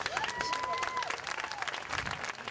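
Audience applause at a Veteran's Day gathering honoring the Marine Corps birthday: dense, steady clapping fills the room throughout, with a brief whistle cutting through near the start.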